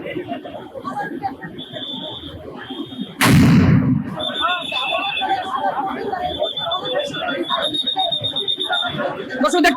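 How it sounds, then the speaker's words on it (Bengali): A police sound grenade bursts with one loud, sharp blast amid a student protest clash, rising out of a crowd's constant shouting and chatter and leaving the commotion louder afterward. "এই ইতিমধ্যে একটি সাউন্ড গ্রেনেড নিক্ষেপ করা হয়েছে"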